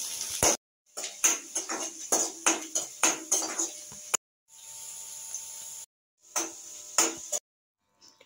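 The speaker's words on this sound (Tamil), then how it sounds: "வெள்ளைப்பூடி போட்டு அதோட சேர்த்து வதக்கிடுவோம்" Garlic and dried chillies are sautéed in a pan for a healthy pirandai thuvaiyal, with rapid metallic scraping and clinking of a spoon against the pan in quick bursts, broken by short silent gaps.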